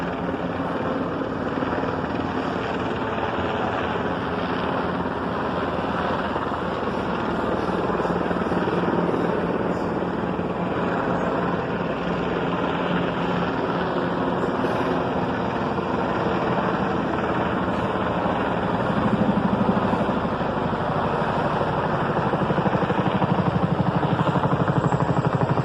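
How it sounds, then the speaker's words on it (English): A group of military helicopters that includes a Chinook flies over Dayton, producing a sustained, loud rotor drone with a steady throbbing beat. "Military helicopters flying over Dayton."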